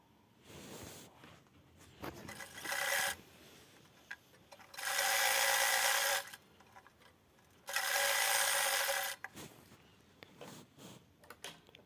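A sewing machine stitches fabric strips onto a bag zip in three loud bursts, one short and two long steady runs, with quiet handling of the material between them.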